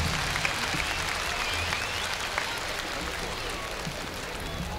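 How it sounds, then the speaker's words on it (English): Dense, steady crowd applause at the 1972 Wattstax concert in Los Angeles, a continuous wash of many hands clapping that carries evenly from start to finish. "You owe yourself a big applause for being that."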